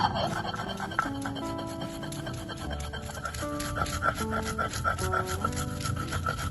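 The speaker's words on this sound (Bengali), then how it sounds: "এবার আমি এগুলো ভালোভাবে বেটে নেব।" Mustard seeds, salt and green chillies are ground into a paste by hand, giving a close, rhythmic rubbing and scraping that repeats steadily beneath soft background music.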